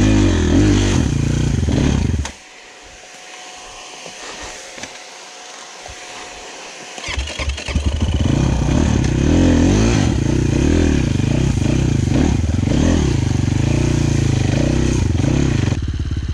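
An Avantis Skyline 250 motorcycle engine runs briefly, cuts out into near quiet, then fires up again and revs hard. It stays loud and close, with a throaty, fluctuating roar to the end.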